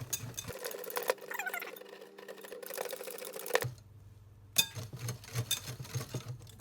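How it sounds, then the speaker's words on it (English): Fudgy brownie batter being whisked by hand in a bowl, a busy run of light rhythmic clicks and scrapes that pauses briefly partway through and then resumes in quicker bursts. "Okay, I'm gonna whisk this in now."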